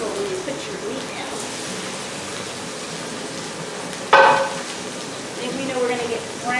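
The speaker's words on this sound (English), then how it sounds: "When you hear that sizzle when you put your meat down." Steady hot-pan sizzle and crackle of pork chops frying, with a sharp burst of louder spitting partway through as something hits the oil.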